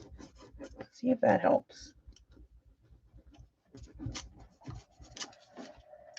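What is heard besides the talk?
bone folder rubbing paper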